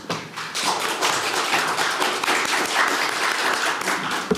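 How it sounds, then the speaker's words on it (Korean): Warm applause from a forum audience welcoming a newly appointed floor leader to the stage at a small-business platform debate, steady mid-level clapping with a few distinct taps and thuds. "큰 박수로 맞이해 주시기 바랍니다"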